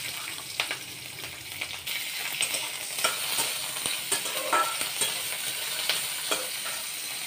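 Nigella seeds, onion, green chili, ginger and garlic frying in hot oil for bottle gourd peel paste, a dense close sizzle with scattered stirring clicks and scrapes throughout.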